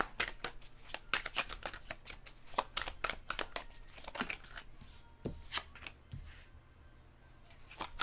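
Tarot cards are shuffled and drawn from a deck during a reading, a quick run of sharp papery riffles and slaps close up, then a few slower separate card snaps and flicks toward the end.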